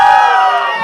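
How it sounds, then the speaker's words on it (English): Conference audience at React India 2023 cheering loudly, a dense wash of shouts and whoops from a room of people, sustained and close throughout. "this half of the room, there's fewer of you, so you're going to have to cheer louder"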